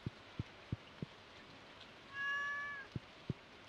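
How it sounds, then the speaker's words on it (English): A cat meowing once in the farming video game Stardew Valley, a clear drawn-out meow over soft rain, with regular light thumping beats before and after. "Kitty!"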